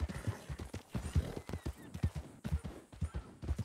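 Horse hooves clip-clop steadily on a ranch in a western roleplay video game, set in Blackwater. The regular, close hoofbeats run throughout under faint background sound.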